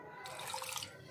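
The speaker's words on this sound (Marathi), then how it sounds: "तर आता उघं ह्याच्यात जरा पाणी टाकते" A little water poured into a cooking pan in a home kitchen gives a brief, soft splashing gush lasting under a second, faint and close.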